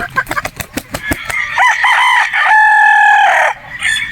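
A Boston Roundhead gamecock rooster crows loudly and close, one long drawn-out crow following a run of short clucks and sharp sounds.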